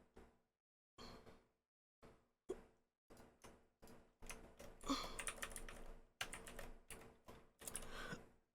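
Fingers tap on a computer keyboard in uneven bursts, with short pauses between groups of keystrokes and a denser flurry of clicks in the middle, close by and fairly quiet.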